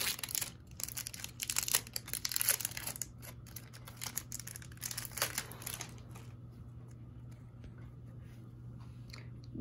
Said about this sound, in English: We're gonna be opening the 94/95 rookie die cut pack.